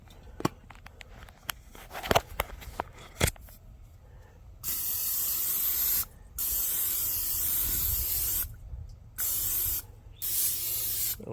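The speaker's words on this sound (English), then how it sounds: "Spray some non-stick spray." Olive oil non-stick cooking spray hisses onto a CharBroil Bistro Pro grill in several bursts, a couple of seconds each, after some faint clicks and handling noises, with no talking.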